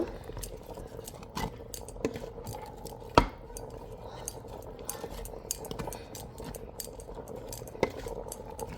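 Meat being stirred in a pot for a Qurbani Eid dish, with scattered metallic scrapes and clinks of a utensil against the pot, one sharper knock standing out, over a low steady kitchen hum.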